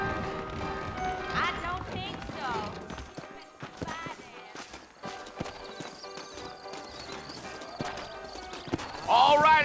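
Steady clip-clopping horse hooves in Red Dead Redemption under game music and voices, a brisk, even rhythm continuing throughout.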